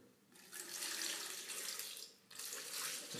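Water pours for a smoothie of arugula, blueberries, avocado and date, a hissing splash that starts abruptly, runs loud and steady, dips briefly, then resumes.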